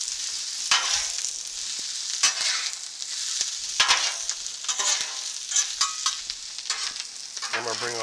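Brisket and vegetables stir-frying on a Blackstone griddle: a steady close sizzle broken by repeated scraping and clacking of a spatula against the flat top, with no voices.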